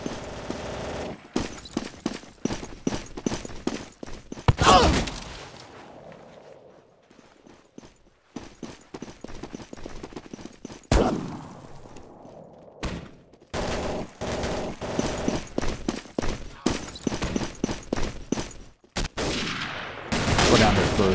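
Bursts of machine gun fire from an MG in Day of Defeat Source crackle in rapid, repeated volleys with short pauses between them. Footstep-like clatter and combat noise fill the gaps.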